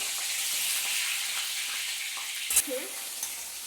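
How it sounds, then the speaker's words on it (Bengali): Soya chunks fry in a pan with a steady, close hiss of oil throughout, broken near the middle by a brief scrape or clink of a spoon against the pan. "ভেজে নিচ্ছি"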